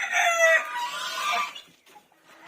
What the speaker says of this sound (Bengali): এই যে সাদা মুরগিটা